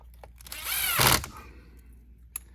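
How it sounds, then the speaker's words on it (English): A short burst of rapid mechanical rattling from an impact driver sinking screws while repairing a Riccar Supralite vacuum, rising and cutting off after about a second, followed by quiet and a faint click. "tool I'm using is an impact, I know this tool really well, and I'm not sinking these screws in"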